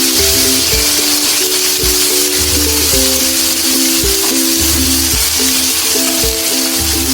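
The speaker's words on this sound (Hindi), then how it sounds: "ऑयल गरम होने तक जीरा डाल दें और प्याज डाल दें।" Cumin seeds and chopped onion sizzle in hot oil for a bottle gourd sabji, a steady, loud, continuous frying hiss with no talk over it and soft music tones underneath.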